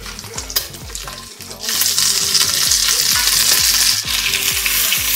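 Egg omelet topped with Parmesan and mild cheddar fries crispy in a pan. A loud, steady sizzle swells after a quieter start and runs continuously, with a rhythmic background beat beneath it.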